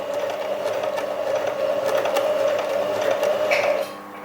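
A basic domestic sewing machine runs steadily through a pants seam, a continuous close mechanical whir with a steady hum, easing off abruptly near the end.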